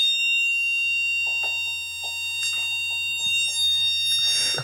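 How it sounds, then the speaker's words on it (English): A shrill electronic building alarm at a Travelodge hotel sounds continuously at high pitch, steady and insistent, with faint scattered knocks and movement underneath. "That is the sound of the alarm going off."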